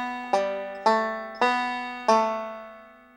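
Four picked notes of a string roll lick from the bluegrass tune Blackberry Blossom, each cleanly plucked and left ringing, played alone in an even, unhurried rhythm, close and clear.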